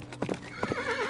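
A horse comes to a halt in a radio-drama scene, a few close clip-clopping hoof strikes followed by a rising, wavering whinny, loud and with no voices.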